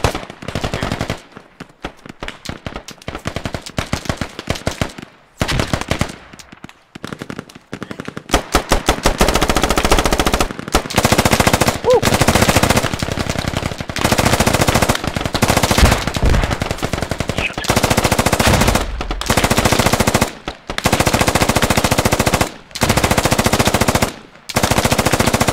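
M249 light machine guns hammer out long sustained bursts in a Squad firefight, loud and close, the rattling fire broken by short pauses, with sparser scattered shots early on.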